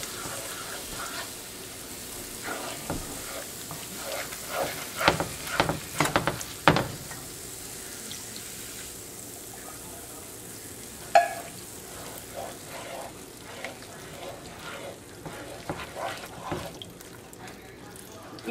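Onions sizzle in a pan on a home stove, a steady frying hiss with scattered louder clatters of stirring and handling, mostly without talk.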